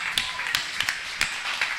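Hands clapping at a church service with sparse, uneven claps scattered across a short stretch, some sharper than others, over a faint room background.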